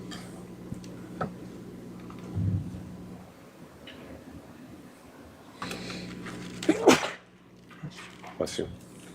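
A single sharp sneeze bursts out in a courtroom during a murder trial, standing clearly above a low steady room hum and faint background murmurs.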